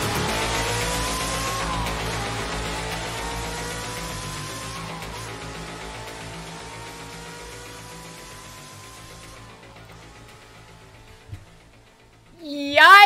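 A turbo car engine roars and revs, its pitch sliding as the loud drone slowly fades away over several seconds, followed by a sudden sharp burst at the end.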